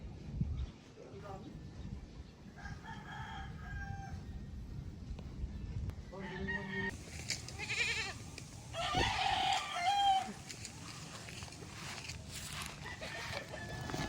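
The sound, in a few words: chickens clucking and crowing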